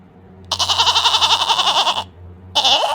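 A cartoon goat bleats in two loud, near calls: a long, wavering bleat lasting about a second and a half, then a shorter one after a brief pause.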